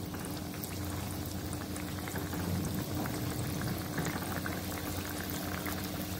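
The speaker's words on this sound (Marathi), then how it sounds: "बारीक गॅसवर तळून घ्यायचे, अगदी बारीक गॅस. आणि मंद गॅसवरच तळायचे," Gulab jamun balls of paneer and khoya frying in oil over a low flame, giving a steady, dense bubbling sizzle that continues evenly throughout with no voices.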